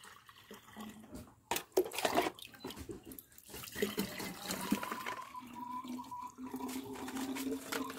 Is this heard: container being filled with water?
yes